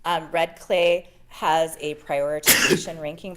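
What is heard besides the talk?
sneeze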